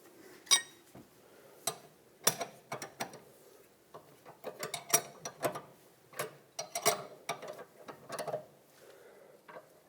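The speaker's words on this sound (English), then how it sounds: "Put the tie rod tool back on," A tie rod tool ratchets in irregular clicking bursts while tightening the inner tie rod on a 2008-2012 Honda Accord, sharp metallic clicks close up with short pauses between strokes and no talking.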